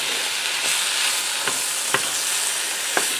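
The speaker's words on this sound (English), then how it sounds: "I'm going to go ahead and stir this around," Chicken pot pie filling with peas and carrots stirred in a pan on a switched-off burner, a soft continuous sizzle broken by a few distinct scraping strokes of the spoon.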